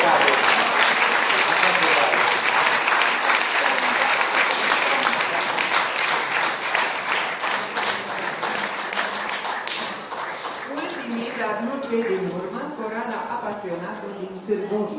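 Audience applause fills a hall at an international choir festival in Focsani, dense steady clapping that thins out toward the end as a voice begins speaking over it.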